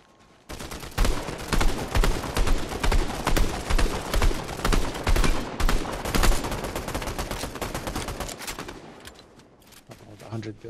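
Fast, sustained assault rifle fire in Fortnite, dense rapid shots rattling steadily for several seconds before tapering off, loud and close.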